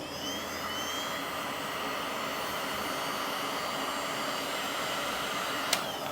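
A heat gun blows hot air over thermoplastic splint material with a steady, close whooshing roar that holds for several seconds and ends with a brief click.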